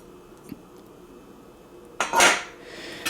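Stainless steel parts of an electric percolator, such as the lid, spreader and brew basket, are handled. Quiet, faint taps lead into a sudden, loud metallic clatter and clink near the end.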